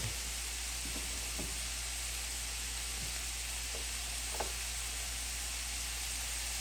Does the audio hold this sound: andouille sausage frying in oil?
yes